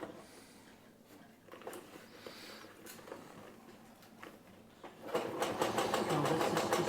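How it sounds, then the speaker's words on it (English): Sewing machine stitching vinyl on a motorcycle seat, a steady rapid mechanical patter that runs in short bursts and grows louder and continuous near the end, heard up close. "It's just about pulling the vinyl and doing this row of stitching"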